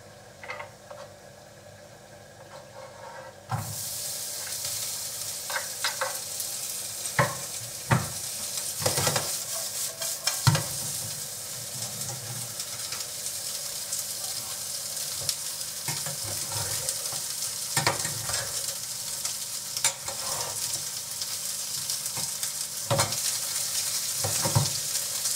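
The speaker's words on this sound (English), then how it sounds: "Now let's warm the pork meat." Pork meat for gyros sizzles steadily in a hot pan after landing with a sudden rise in frying noise, while occasional utensil scrapes and taps sound close by.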